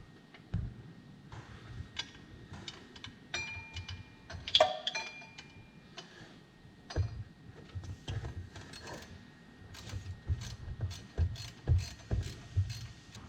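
Ratchet clicking in short bursts while tightening water pump bolts on a small block Chevy V8 in a 1988 Pontiac Firebird, close and moderately loud with pauses between strokes and no talk.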